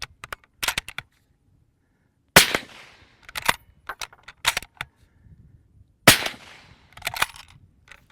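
Suppressed .308 bolt-action rifle fitted with a Rugged Micro30 silencer in long configuration, firing sharp isolated cracks outdoors, several spaced shots mixed with bolt and metallic handling clicks between them.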